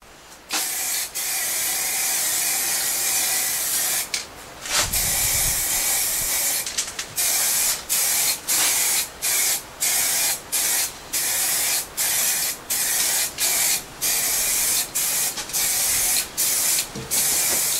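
A primer coat is sprayed onto a welded steel stand for a huge parasol, heard as a loud, steady paint-spray hiss in repeated bursts with brief gaps, becoming short regular pulses in the second half.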